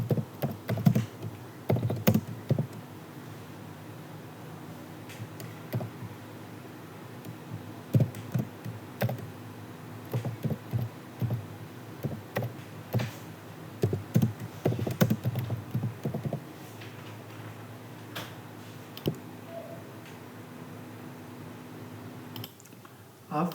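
Close, quiet computer keyboard typing of C++ code, irregular bursts of key clicks and taps with brief pauses, steady over a low hum.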